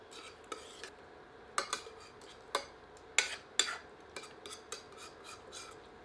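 Mutton with spices is stirred in a kadai, a metal spoon scraping and clinking against the pan in irregular, fairly sharp knocks over a soft background hiss, with no talk.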